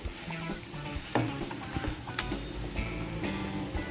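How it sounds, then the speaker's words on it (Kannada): Boiled, peeled potatoes being mashed in a pan for potato sagu, giving quiet scraping and soft tapping knocks in an irregular rhythm, close up with no voices. "ನೋಡಿ ಹಾಗೆ ಹಾಕೊಂಡು ನಾನು ಮ್ಯಾಶ್ ಮಾಡ್ತಾ ಇದೀನಿ"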